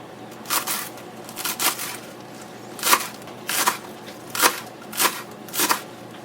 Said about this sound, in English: Cut your ends pretty thin and small.